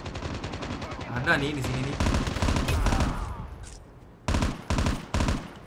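Gunfire from a weapon in the mobile shooter Call of Duty Mobile: rapid automatic bursts, then after a pause several short, loud volleys, with someone talking over the shooting.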